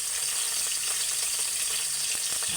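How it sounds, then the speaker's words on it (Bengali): Onion frying in a little oil, giving a continuous soft sizzle with faint crackles and occasional light clicks throughout. "প্রথমে আমি অল্প একটু তেল দিয়ে দিলাম, একটু পেঁয়াজ দিয়ে দিলাম"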